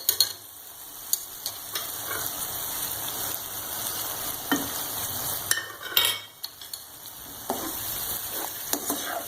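Garlic, ginger and spices frying for beef karahi, a continuous close sizzle broken by intermittent scrapes and knocks of a spoon stirring in the pan.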